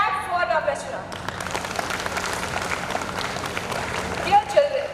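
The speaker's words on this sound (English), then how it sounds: "I want you all to clap for Navfest." An audience of children and guests at a school event claps for the organizing team, steady scattered hand claps building after a brief voice at the start, with a few sharper sounds near the end.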